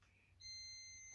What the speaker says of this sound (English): it gives me a beeping noise because there's not enough voltage coming from the batteries.